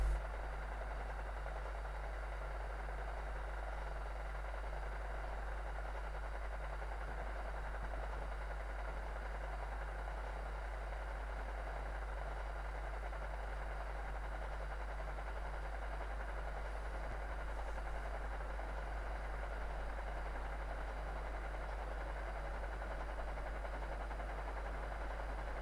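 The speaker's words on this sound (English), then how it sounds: "Engine noise." Locomotive engine in the Train Sim World 2 game, a steady low drone with a constant rumbling hum that stays even and unbroken throughout.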